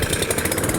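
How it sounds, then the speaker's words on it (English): A SENIX 163cc gas engine on a 22-inch self-propelled lawn mower buzzes loudly and steadily just after a pull start, with a fast even pulsing drone close by. "Let's see how easy we can pull it and get it to start."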